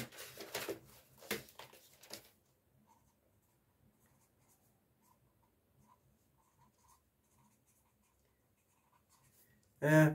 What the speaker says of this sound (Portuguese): Vamos escrever esse nome aqui também.